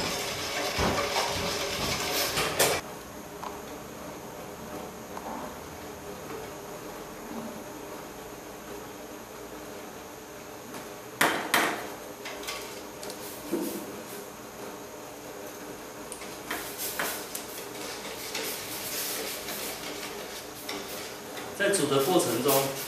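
Red bean filling being stirred in a pot over a moderate flame makes intermittent bursts of scraping and clattering against the pot, with quieter steady background noise in between.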